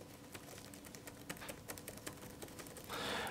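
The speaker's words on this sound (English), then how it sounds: "I would say these are medium sounding keys as I'm typing away." Fingers type on the keyboard of an HP Envy x360 16-inch laptop, a fast, irregular patter of soft key clicks at close range, ending in a short burst of broadband noise.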